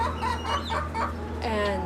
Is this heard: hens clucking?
yes